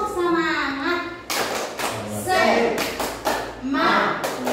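A group of teachers at a Guru Penggerak education workshop claps out the "tepuk semangat" rhythm in quick bursts, with chanting voices mixed in over the patterned claps.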